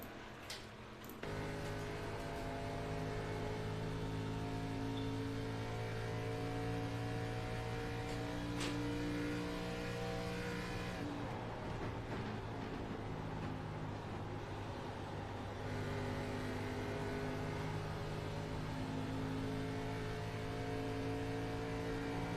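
Onboard engine of the Total Comfort number 33 stock car driven by Eddie Gilliard at Charlotte, a steady loud droning roar with shifting pitch as it holds speed through the corners, no talk.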